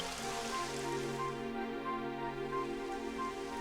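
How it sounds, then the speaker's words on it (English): Rain falls across a scene in the video game Dragon Quest XI, a steady broadband patter that holds an even level for a few seconds, with faint tonal game music beneath it. "It would have to go and start raining, wouldn't it?"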